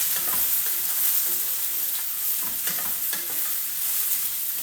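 Onions, carrots, broccoli, green beans and celery fry in a pan over medium heat, giving a continuous close sizzle with soft scraping stirs now and then.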